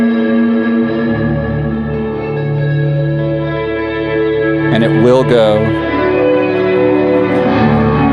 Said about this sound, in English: This is the reverb mode.